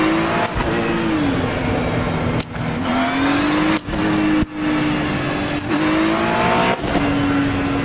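A GT3 race car engine in the iRacing sim drones loudly and continuously around Road America, its pitch dipping and climbing with gear changes and throttle, broken by several short dropouts.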